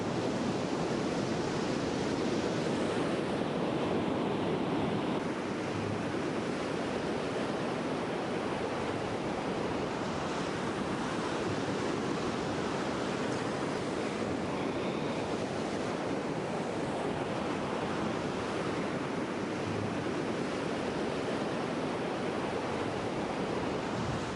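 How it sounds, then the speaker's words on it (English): Sea waves break continuously on a beach during a European open beach sea fishing championship, a steady loud roar of surf mixed with wind buffeting the microphone, with no talk. "So we battle on with these waves"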